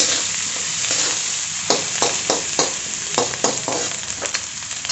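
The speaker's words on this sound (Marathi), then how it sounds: "थोडंसं तेल टाकून मी पुन्हा छान असं परतून घेते सर्व" Steady sizzle of spices frying in oil in a hot pan with repeated scraping stir strokes, close and fairly loud, no voices.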